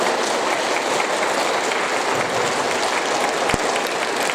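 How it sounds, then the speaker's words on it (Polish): Loud, sustained applause from parents and pupils for student performers at a school patron's day celebration, a dense, continuous roar of many hands clapping at once, with a single sharp knock partway through. "Proszę o ogromne brawa dla naszych artystów."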